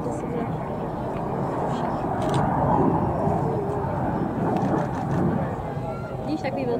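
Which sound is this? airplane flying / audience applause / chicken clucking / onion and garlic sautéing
airplane flying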